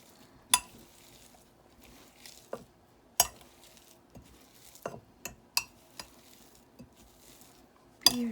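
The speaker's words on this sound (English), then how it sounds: "We're going to mash these, mix in the quarter of a cup of oats" Purple sweet potatoes being mashed with a quarter cup of oats mixed in, heard as scattered sharp clinks and taps of a utensil against a bowl over quiet scraping, close and without talk.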